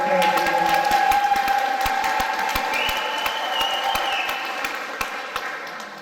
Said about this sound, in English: Give Elaine a big round of applause.